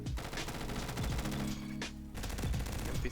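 MP7 submachine gun in the shooter game Bad Business, firing rapid sustained bursts with one brief pause before the fire resumes, loud and close, with no talking.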